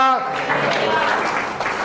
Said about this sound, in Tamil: கைத்தட்டி எல்லாரும் பிரைஸ் தி லார்ட்.